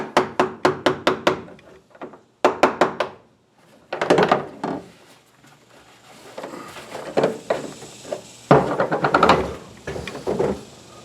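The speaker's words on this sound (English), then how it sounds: "Put it right there and tap it around." A flat-ended tool taps the bung of a 55-gallon drum loose, giving rapid bursts of sharp metallic knocks in quick clusters with short pauses between, close and fairly loud.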